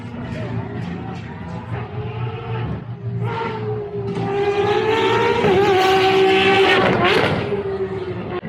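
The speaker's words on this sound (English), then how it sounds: "If I'm not mistaken, that's the Ferrari FXX." A Ferrari FXX supercar accelerating hard on a demonstration course at a large car show in Saudi Arabia, its engine note climbing into a loud, sustained rising roar that builds toward the middle and then eases, with crowd noise underneath.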